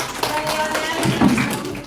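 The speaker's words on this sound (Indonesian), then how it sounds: "Tepuk tangan dulu buat kelompok 2" A classroom group claps briefly for a student team in a teacher-training lesson. The claps are close and fairly loud, with some faint background murmur.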